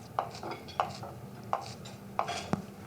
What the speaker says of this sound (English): I'm just roughly cutting some of the green onions to go over it